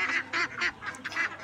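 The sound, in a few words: ducks honking on farm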